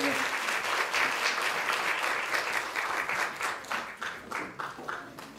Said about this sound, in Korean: 오건호 공동운영위원장님 박수 부탁드리겠습니다